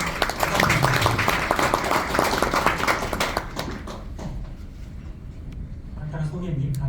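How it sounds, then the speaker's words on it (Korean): An audience claps at an indoor event, a dense burst of applause that swells at first and then fades, with voices speaking over and after it. "큰 박수 부탁드립니다"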